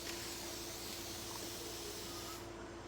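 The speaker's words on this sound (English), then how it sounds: "That was a really long spray." A long continuous hiss of cleaning spray from a spray bottle aimed at a craft table, close and steady, cutting off near the end.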